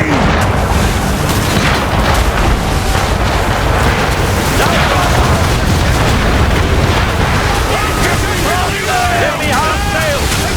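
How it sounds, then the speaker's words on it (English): Mortar fire in Assassin's Creed 3 naval combat: continuous booming blasts and rumbling impacts fill the scene at high loudness, with shouted voices mixed into the dense battle noise. "Mortars, Captain! We're in range!"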